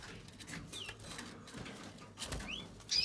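Canaries calling inside an aviary on La Réunion, with thin, bright chirps and trills scattered through the clip over a low background hum, moderately close.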